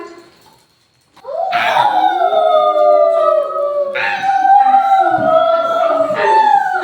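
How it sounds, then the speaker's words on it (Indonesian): A long, wavering howl rises and falls, starting after a brief quiet and then carrying on loud and close, with a second voice joining in layered cries. It is presented as a wolf howling in a children's shepherd fable. "Dan sekarang ternyata serigalanya datang beneran."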